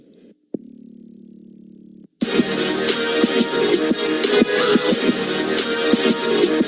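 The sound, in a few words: 30-plus motorcycles revving their engines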